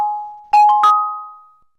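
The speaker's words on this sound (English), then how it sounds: "you would hear a chime kind of like that" Windows sound test chime played through earphones: a clear electronic tone followed by two quick, bright ding notes that ring out and fade, alone in silence.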